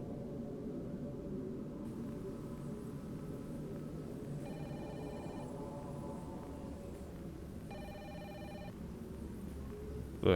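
Telephone ringing in the horror video game Fatal Frame: Maiden of Black Water, two short electronic bursts of ringing over a steady low ambient drone, moderately loud and with no voices.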